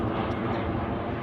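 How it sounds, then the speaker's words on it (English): An airplane passes overhead above a backyard garden, a steady broad engine roar heard at an even, fairly loud level with no talking. "Sorry about the airplane."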